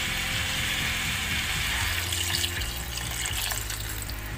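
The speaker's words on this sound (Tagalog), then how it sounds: "Lagyan natin siya ng tubig." Water poured steadily into a cooking pot of ginisang upo, a continuous close, loud rushing splash with no pause.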